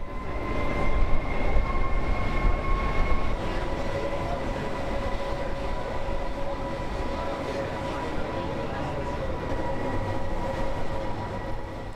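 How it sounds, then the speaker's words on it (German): An old cog railway train leaving Chamonix rumbles steadily along its track with a continuous low mechanical drone and faint sustained whining tones, fairly close, with no talking. "Die gemütliche Fahrt mit der betagten Zahnradbahn beginnt gleich hinter dem Bahnhof von Chamonix"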